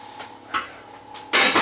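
A lid goes onto a pot of homemade sauerkraut with a couple of light metallic taps, then a louder, close clank and rattle as it settles.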